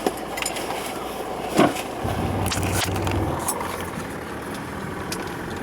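A Mercedes-Benz W114 220D diesel car running on the road, its steady low engine drone and road noise continuing throughout, with a few faint knocks and rattles from inside the cabin.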